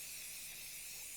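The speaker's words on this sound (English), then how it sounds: "We're going to take some canola spray." Canola oil cooking spray hisses in a short, steady, even burst as it is sprayed onto chicken on a cooking tray, heard close and alone.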